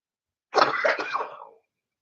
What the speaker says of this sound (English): the talking is making me cough more